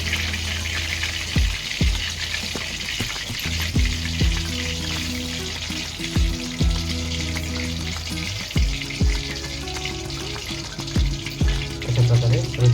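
Chicken lollipops deep fry in hot oil with a loud, steady sizzle and bubbling. Sharp clinks of a utensil against the pot land every second or two.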